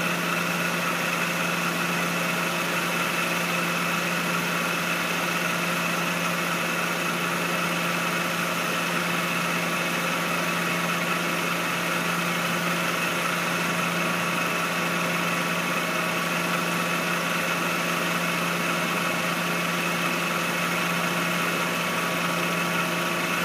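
A 2001 Suzuki Esteem with a 1.8 engine idles steadily and close by, holding an even, unchanging hum with no voices over it.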